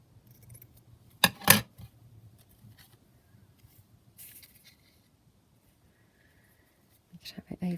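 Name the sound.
scissors cutting a small piece of net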